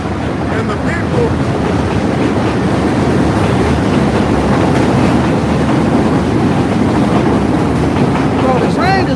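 Loud continuous rumble and clatter of a train passing nearby, sustained across the whole stretch, with a voice talking faintly underneath.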